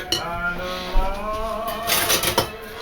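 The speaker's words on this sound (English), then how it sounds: "I think I'm going to change my tool maybe to a whisk" A whisk stirs waffle batter in a bowl, making quick soft clinks and tapping against the bowl over a slight wet swishing, close and fairly quiet, without speech.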